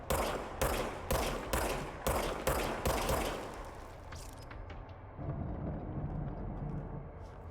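Rapid gunfire from a regenerating-ammo weapon in the video game Control, a run of loud evenly spaced shots for about four seconds, then scattered fading reports and a low rumble, with no talking.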